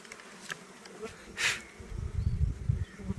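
Bees hum and buzz close by, settling on a palmyra palm to drink its dripping sap, in a low, wavering drone that swells in the second half, with a brief rustle partway through.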